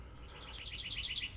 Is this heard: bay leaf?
no